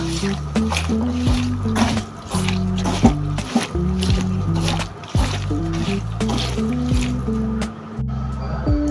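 Fish being mixed by hand with chili powder, giving steady wet squishing and squelching that runs throughout over a continuous low background hum.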